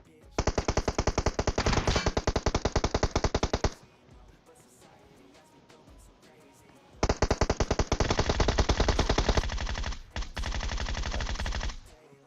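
Machine-gun fire in the mobile game PUBG Mobile: a long, loud automatic burst of rapid shots, a pause, then another sustained stream of fire that breaks into shorter bursts near the end, with no talking.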